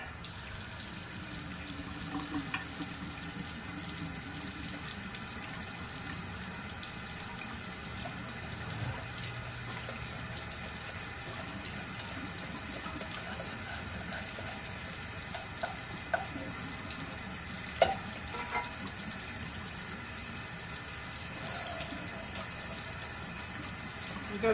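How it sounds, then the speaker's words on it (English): Hot water runs from a kitchen tap while rice and chicken bouillon are prepared, a faint, continuous hiss and trickle lasting over twenty seconds with a few small clinks and knocks. "So we're gonna let the hot water run."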